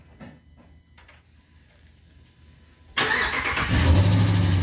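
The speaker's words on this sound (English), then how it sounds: "Here's the cold start." A Ram truck's Hemi V8 cranks over and catches on a cold start, quiet clicks and rustling followed by an abrupt, loud engine roar that settles into a high idle, close and with no talk.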